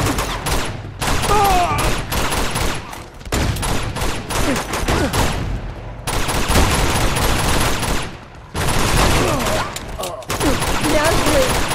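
Loud, sustained gunfire in Uncharted 2, dense crackling bursts filling the scene with brief lulls near one, six and nine seconds, mixed with game effects and occasional talk.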